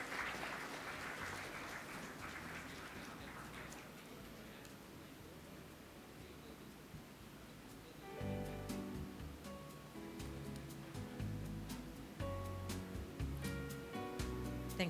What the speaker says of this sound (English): Round of applause for our moderator and speakers.